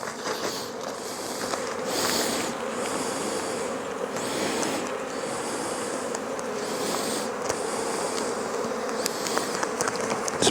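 Honey bees buzzing at a hive during November mite sampling, a dense, steady swarm drone close by that carries on without a break.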